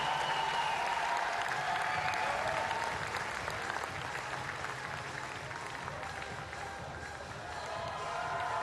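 Steady, fairly distant applause and cheering from a crowd at a track cycling World Cup final session in Cambridge, going on without a break during a podium ceremony.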